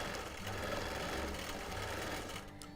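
Sewing machine running steadily while stitching a linen blend quilt, a close, continuous whirring hum with a fast mechanical rhythm that slows slightly at the end.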